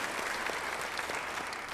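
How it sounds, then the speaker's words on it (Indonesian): A church congregation applauds during a sermon, a continuous wash of many hands clapping together, steady and fairly soft, heard from a distance with no gaps. "Beri tepuk tangan bagi dia"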